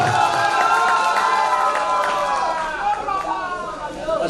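A mushaira crowd in Mumbra cheers and shouts loudly and continuously, a dense mass of raised voices welcoming a poet to the stage.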